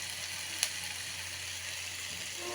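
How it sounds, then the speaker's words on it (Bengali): Onion, green chili and tomato frying together in oil give a steady, close sizzle that hisses evenly throughout, with one brief small pop partway through. "আমি পেঁয়াজ, কাঁচামরিচ আর টমেটোটা একসাথে ভালো করে ভেজে নিয়েছি"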